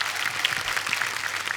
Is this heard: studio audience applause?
yes